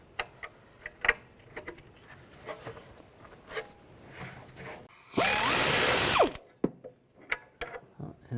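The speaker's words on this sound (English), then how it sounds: "Now we're going to loosen this nut up. Use a 21mm wrench or a socket." Ratchet and socket working a 21mm nut on the rear control arm of a 2006-2010 BMW 550i, with scattered close clicks and clanks around one loud sustained buzzing burst, likely a power tool spinning.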